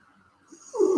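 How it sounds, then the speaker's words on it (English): A single short human yawn, quiet breathing at first, then a louder, drawn-out, throaty vocal exhale near the close. "that was a yawn right there."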